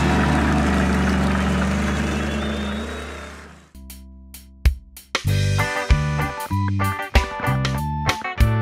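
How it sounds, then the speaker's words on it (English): Monster truck engines give a deep, loud, rumbling roar for a few seconds before it cuts off. Bright, bouncy music with punchy beats then takes over. "Can you hear their engines are roaring so loud?"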